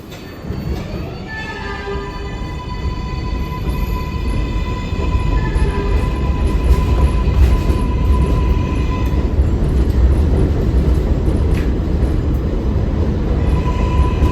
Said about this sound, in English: Main Street bound 7 local train